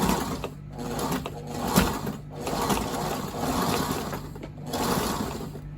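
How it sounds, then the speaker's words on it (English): A sewing machine stitches backwards over the edge of a seam to reinforce it, running in a steady rapid whir with several short pauses and restarts. "Just sew backwards over it, just for some added strength."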